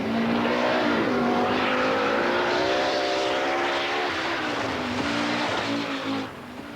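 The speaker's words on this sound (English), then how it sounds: "with as ever Fabrizia Pons at her side, was using the huge power of her Pirelli-shod Audi to very good effect." Pirelli-shod Audi rally car at full power on a British rally stage, its engine note held loud and high, rising and falling through gear changes as it passes close by before cutting away at the end.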